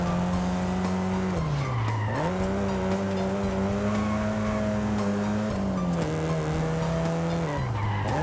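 A BMW 2002 Turbo drifting in Forza Horizon 5, its tires squealing in long, loud, sustained wails that dip and rise in pitch through the slides, with the engine droning steadily underneath.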